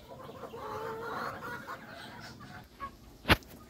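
Rhode Island Red hens cluck softly in a coop, a continuous low murmur of fowl calls with a few louder clucks near the end and one sharp burst.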